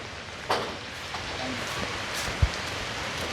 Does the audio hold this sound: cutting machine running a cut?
no